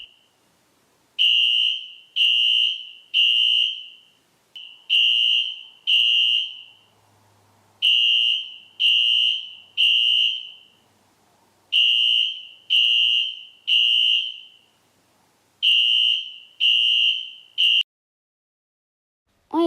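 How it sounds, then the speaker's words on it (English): A school fire alarm rings in loud, evenly spaced electronic beeps grouped in threes, each tone piercing and harsh, repeating steadily with short gaps and no voices over it. "Oh no, class, there's a fire alarm."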